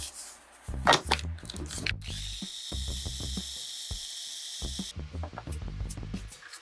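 A blender grinds ingredients for a cold pasta sauce with lemon juice in short, choppy bursts of whirring and rattling, broken by one longer, steady high-pitched motor whine, close and moderately loud, with no talking.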